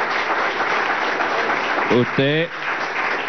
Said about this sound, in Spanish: Un aplauso a Diosdado Cabello